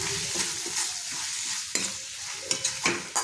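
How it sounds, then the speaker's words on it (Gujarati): Onions sizzle in a hot pan while a utensil stirs and scrapes, with a few sharp clinks against the metal. "ડુંગળીને આપણે બે ત્રણ મિનિટ માટે સાતરી લઈશું"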